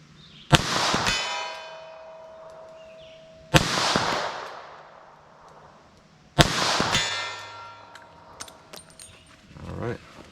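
Three sharp gunshots from a .38 Special snub-nose revolver firing Sellier & Bellot lead round nose ammunition, spaced about three seconds apart, each with a bright ringing tail, followed by a faint clatter at the end.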